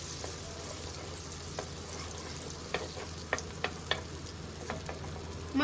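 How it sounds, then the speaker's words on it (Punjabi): Butter melting in a hot pan for butter masala corn, a soft continuous sizzle with a few light scraping clicks of a spoon toward the end, close and quiet. "ਮੱਖਣ ਹਲਕਾ ਜਿਹਾ ਪਹਿਲਾਂ ਆਪਾਂ ਮੈਲਟ ਹੋਣ ਦਵਾਂਗੇ"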